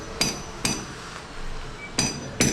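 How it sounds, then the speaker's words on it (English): Stainless steel barrier holes are chiseled for a first-floor balcony during house construction in the Philippines. Four sharp, separate hammer-on-chisel strikes ring out at uneven intervals over faint background noise. "chiseling some more of the holes for where the barrier or the stainless steel barriers will go"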